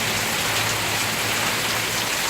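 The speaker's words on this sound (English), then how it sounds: "Huge amount of rain" Heavy rain in Queensland pelts down hard and dribbles from a gutter, a loud, dense, unbroken roar of drops close by.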